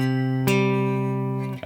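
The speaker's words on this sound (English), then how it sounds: "Whenever we're playing power chords, we are playing the root and the 5th together, which will create this sound." A guitar power chord, root and fifth played together, rings out sustained and close. The tone is steady and harmonically rich, with a fresh strum partway through that lets the chord ring on and fade slightly near the end.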